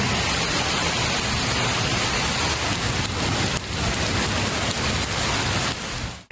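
Heavy rain pours steadily in Gwadar, a dense, loud wash of drops on streets and surfaces with low rumbles of thunder rolling beneath, no voices present.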